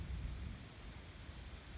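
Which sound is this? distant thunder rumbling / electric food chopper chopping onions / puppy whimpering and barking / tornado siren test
distant thunder rumbling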